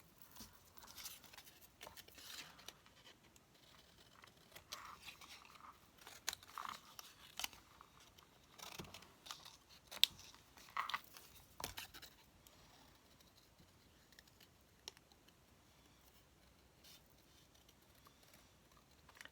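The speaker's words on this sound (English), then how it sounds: "So I'm using my right hand to cut, and then I'm using my left hand to move the paper around so that I can cut the image out" Scissors snip steadily through paper as an image is cut out by hand, with quiet irregular clicks and rustles of the sheet being turned between cuts, close and fairly faint.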